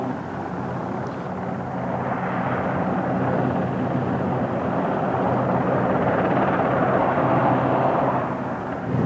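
Military helicopters hover off a Falklands shoreline during the 1982 war, rotors turning in a loud, steady, broad roar that holds evenly for the whole stretch.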